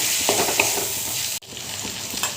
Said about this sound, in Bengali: এবার দিয়ে দিচ্ছি টুকরো করে কেটে রাখা আলু